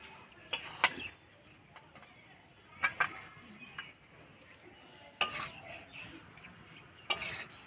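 Cooked ash gourd curry finished with ghee is scraped and poured from a pan into a serving dish, giving a few sharp metal-on-metal clinks and scraping bursts with quiet gaps between.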